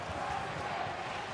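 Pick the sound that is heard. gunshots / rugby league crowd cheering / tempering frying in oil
rugby league crowd cheering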